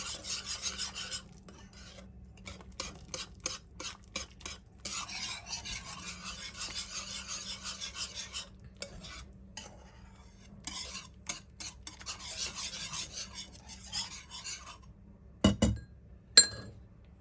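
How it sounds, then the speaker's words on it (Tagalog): Carbonara spaghetti sauce being stirred in a pan: steady rasping scrapes and frequent light metallic clinks of a utensil against the pan, close and fairly quiet, with no talking. "Mikos-mikos lang para yung buo-buo ba niya matanggal."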